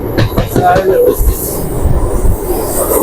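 A MEMU express train from Durgapur to Sealdah runs on rails near the Hooghly River, giving a steady loud rumble with rhythmic wheel clatter throughout, heard from on board as people talk faintly.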